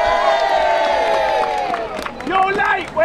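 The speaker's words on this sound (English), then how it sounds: "Give them a cheer." An outdoor pirate show crowd on Hastings Pier cheers and whoops loudly, with children's shouts and scattered clapping rising in waves close by.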